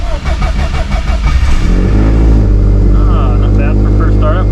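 A race-prepped car engine running on E85 fuel fires up for its first startup, cranking briefly before catching into a loud, steady idle that holds strongly and close, with voices talking over it.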